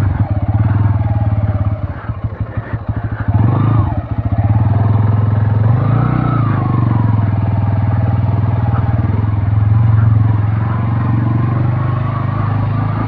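A 2025 Bajaj Pulsar N160 motorcycle engine drones loud and close while riding, a steady low rumble with brief rattling pulses and rising and falling revs as speed changes.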